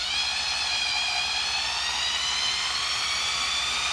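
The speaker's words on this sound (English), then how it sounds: "I'm going to hit it a lot faster than that with this little bitty drill motor to prove that it will go full speed" A small handheld drill motor spins a pulley wheel at full speed with no load, giving a steady high-pitched whine that holds even throughout.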